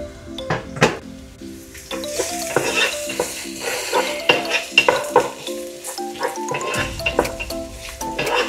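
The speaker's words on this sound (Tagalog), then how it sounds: "Gisa natin yan hanggang maluto yung sibuyas at yung bawang" Onion and garlic sautéing in a pan for pork igado, a continuous sizzle broken by frequent clinks and scrapes of a utensil against the pan, close and busy.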